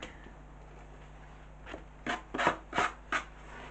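Sandpaper rubbed over decoupage paper, a short series of about five quick, close rasping strokes in a quiet room, growing louder after a near-silent start.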